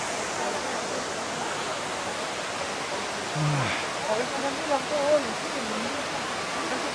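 Highest waterfall in Laguna, viewed from a deck: a steady broadband rush of falling water fills the scene, with a few faint birdlike chirps and soft movement sounds in the middle.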